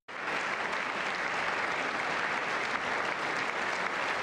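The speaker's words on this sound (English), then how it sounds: "They're going to keep clapping." Steady, dense applause from a sizable crowd, sustained clapping throughout at an even loudness with no pauses.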